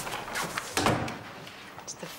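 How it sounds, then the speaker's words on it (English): An office door is pushed shut with a single solid thud partway through, after some brief shuffling, and the room falls quieter after it. "Shut the door."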